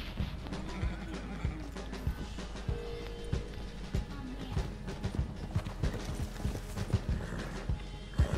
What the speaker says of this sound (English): My horse just jumped in place.